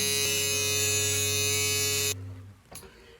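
Electric shaver shaving off a mustache gives a steady, loud, close buzz for about two seconds, then switches off, leaving faint rustling behind.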